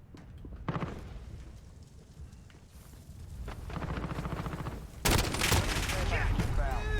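Gunfire in Call of Duty Modern Warfare, bursts of rapid shots with a loud blast near the end, mixed with game noise and scattered voices.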